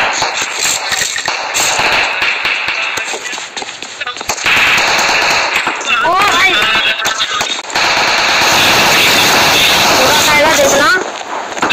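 Rapid gunfire bursts from a PUBG Mobile match, loud automatic fire crackling in clusters across the clip, with in-game effects and voice chat mixed in.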